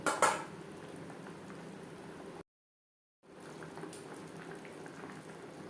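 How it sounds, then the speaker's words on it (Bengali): A pot of shing fish simmers in thin gravy with potato and green banana, a soft steady bubbling with a couple of brief utensil clinks at the start and a short silent gap midway. "গ্রেভির সাথে মাছ আরও চার পাঁচ মিনিট রান্না করব"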